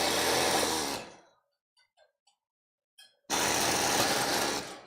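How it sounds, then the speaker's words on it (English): A small Ryobi air saw runs in two loud, steady buzzing bursts at close range, separated by a short pause with a few faint clicks and taps, no talking. "just a little air saw. This is just a little Ryobi job."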